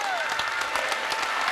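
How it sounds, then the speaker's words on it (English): Spectators in a gym at a high school girls basketball sectional final applaud steadily, a moderately loud crowd clapping with voices murmuring underneath. "Give her a round of applause"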